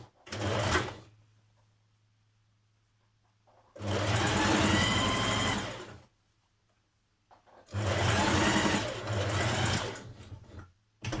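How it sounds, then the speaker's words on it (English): A home sewing machine stitches darts on the front skirt panels of a Burda 6320 dress, running in three loud bursts of steady motor whir separated by quiet pauses, heard close up and alone. "Next, stitch your darts on your front skirt panels."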